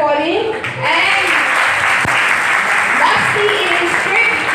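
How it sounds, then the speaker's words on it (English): Audience applause at an international career counselling event held at a college campus, a steady broad wash of clapping across the whole stretch, with voices faintly mixed in beneath. "Please clap for him"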